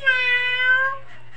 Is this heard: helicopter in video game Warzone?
no